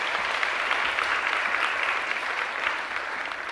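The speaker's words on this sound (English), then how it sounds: "please give a big round of applause for Roberto Tyley" An audience at a software developer conference applauds a speaker, a dense and steady wash of clapping from many hands that holds evenly for the whole stretch with no talking over it.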